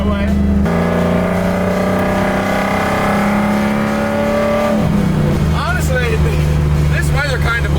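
A 427 big block Corvette cruises on a highway, its engine droning loudly and steadily with a rising pitch before shifting down, while people talk and shout over it.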